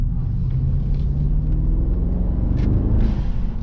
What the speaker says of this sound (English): Still a nice, comfortable, but as I mentioned, dominant and decent sound. Still sporty Brabus noise.